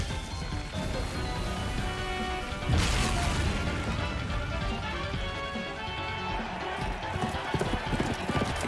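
Steady hoofbeats of a galloping horse in a video game run throughout, with a louder crash partway through and a busy, continuous background.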